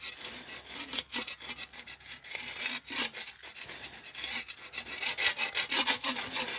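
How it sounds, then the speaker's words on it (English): Glaze is scraped off the bottoms of glazed pottery mugs in a ceramics studio, a close, continuous rasping scrape with quick repeated strokes and no speech. "now I'm just going to scrape off the bottom of them"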